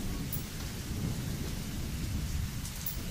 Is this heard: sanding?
no